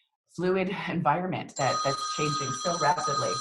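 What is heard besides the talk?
telephone ringing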